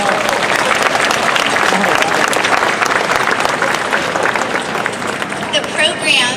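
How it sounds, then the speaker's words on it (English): A large audience at a UCLA graduation ceremony claps loudly for the graduates' families, thick sustained applause with cheering voices rising through it near the end. "Let's give them a big round of applause."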